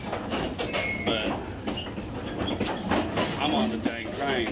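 A steam-powered locomotive train rolls through a West Virginia forest, with loud steady rumbling, rattling carriages and metallic squeals and clicks heard from on board.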